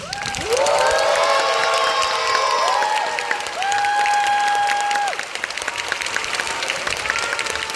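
A theater audience at a children's Korean history musical applauds and cheers loudly, with sustained clapping, whoops and sung or whistled tones carried above the dense crowd noise throughout.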